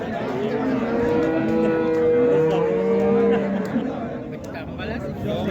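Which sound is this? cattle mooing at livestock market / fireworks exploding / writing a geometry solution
cattle mooing at livestock market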